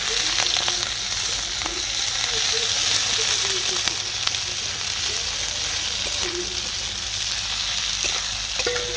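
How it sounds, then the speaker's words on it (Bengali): Sliced onion fries in hot oil with cinnamon, cardamom and cloves, giving a steady dense sizzle throughout. Occasional stirring scrapes and light clinks sound over it. "পেঁয়াজটাকে ভেজে নেব"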